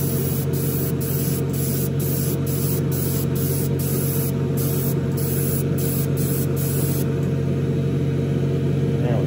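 Close, steady hiss of spray paint as a second coat goes onto the hood of a Revell 1971 Boss 351 Mustang scale model kit, in a series of short bursts over a constant background hum, ending in a longer continuous spray.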